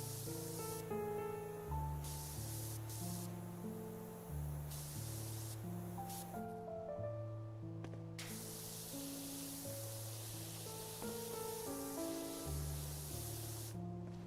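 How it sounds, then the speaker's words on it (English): Water sprays from a nozzle and strikes a surface, a loud, steady hissing rush close by, with a musical backing underneath that shifts notes every second or two. "They improved the, like, spray of the water off of the nozzle and off of the surface when it strikes."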